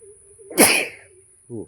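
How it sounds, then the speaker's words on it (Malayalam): A single sharp sneeze bursts out loudly after a faint steady tone, followed by a brief voiced sound. "തുമ്മല്."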